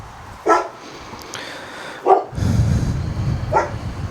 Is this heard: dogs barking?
yes